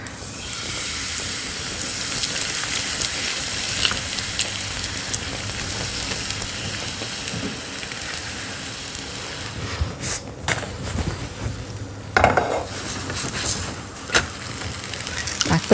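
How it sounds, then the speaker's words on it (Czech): Crepe batter poured into a pan of hot sunflower oil sizzles and hisses loudly and steadily, with a few sharper clatters near the end. "Ten nechám rozehřát a naleju těsto na pánev."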